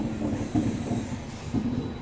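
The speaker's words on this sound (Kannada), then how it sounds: "ತಿಪ್ಟೂರಲ್ಲಿ ನಮ್ಮ ಟ್ರೈನ್ನ ಓವರ್ಟೇಕ್ ಮಾಡ್ತಾ ಇದೆ ಇವತ್ತು" The Jan Shatabdi Express overtakes a standing train at Tiptur, a close, continuous rumble of rolling wagons with faint rhythmic wheel clatter.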